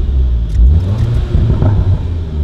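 Exhaust gargle and burble from a 2019 SEAT Leon Cupra hot hatch in sports mode, a loud close low rumble with uneven crackling pulses and no talk over it.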